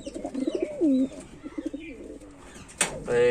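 Jorcha pigeons coo inside a loft, with several close, rolling coos in a loose rhythm and a brief flutter or scuffle near the end.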